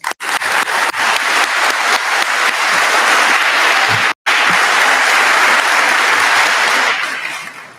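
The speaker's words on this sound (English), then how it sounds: "Let's give one more round of applause and congratulations for our graduates." Sustained applause from a large audience at a high school graduation ceremony for the graduating class of 2021, loud and dense clapping that briefly cuts out once, then continues before tapering off at the end.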